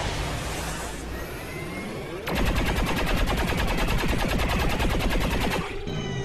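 Loud, dense rapid gunfire bursts in XCOM 2, a steady rattling volley after a quieter opening of game ambience, with no voices.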